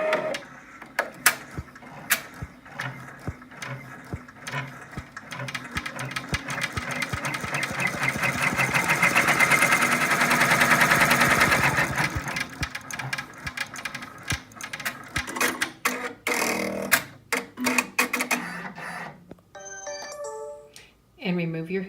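An embroidery machine stitches out the first step of an in-the-hoop oversize angel feltie design, producing a steady, rapid mechanical chatter of needle strokes that runs close and continuous for about twenty seconds, swelling louder midway.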